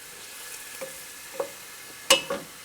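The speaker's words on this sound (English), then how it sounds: "And let it fry a little bit" Vegetables including carrot frying in a pan, a soft low sizzle broken by a few sharp stirring clicks and scrapes close by, the loudest two near the end.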